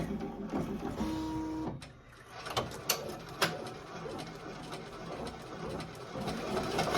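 An embroidery machine stitching a Christmas ornament runs with a steady mechanical whir and needle patter, briefly pausing and then restarting with a few sharp clicks before settling back into its continuous rhythm.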